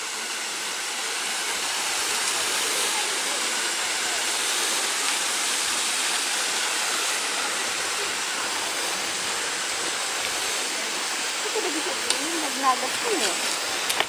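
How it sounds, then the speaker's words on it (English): A waterfall and spring along the Blue Dot trail descending Mount Tammany pour out a steady, broad rushing roar that fills the whole stretch evenly, with faint sounds of people near the end. "They have a nice spring there and waterfall."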